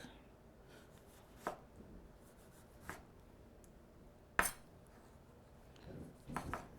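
A knife dices a tomato on a flat cutting surface in a quiet kitchen. There are about four separate sharp cuts at irregular intervals, then a quick cluster of taps at the end, with no speech.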